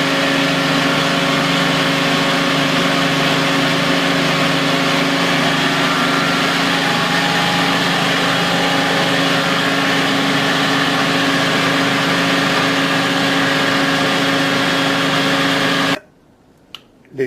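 Lathe machining the bearing seats of a motorcycle wheel rim in place, a steady continuous mechanical hum and whine running loud and unchanging for about sixteen seconds, then cutting off abruptly into near silence.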